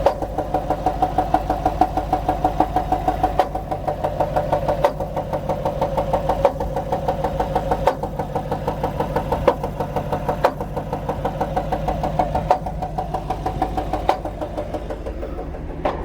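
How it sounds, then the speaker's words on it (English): An idling 2016 Camaro SS LT1 engine with a steady, rhythmic knocking tapping from the cylinder head, repeated evenly and close up for a long stretch. "this doesn't sound like a regular knock noise"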